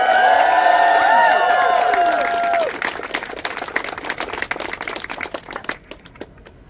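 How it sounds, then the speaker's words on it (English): A crowd at a university student encampment rally claps and cheers for a speaker, with whoops and shouts over the applause at first, then the clapping thins to scattered claps and fades out. "Can I get a big round of applause?"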